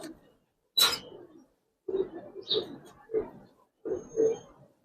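Giribaz racer pigeons coo in short separate bursts, a few low throaty calls close by with brief pauses between them and one higher flutter-like burst early on.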